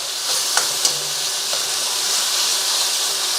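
Chicken pieces for satay sear in a hot stir-fry pan, giving a steady close sizzle and hiss with a few small sharp pops near the start.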